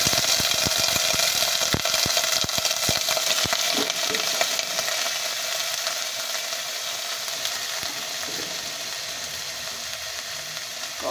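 Chopped sayote sizzles loudly in a pan with garlic, crackling steadily while a spatula scrapes and stirs in quick strokes early on, the frying settling into a continuous hiss.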